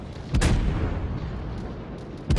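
Naval gunfire with high explosive shells in World of Warships from the Des Moines, with two heavy booming artillery blasts and a rumbling roll between them, loud and close.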